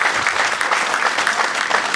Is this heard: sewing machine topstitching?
no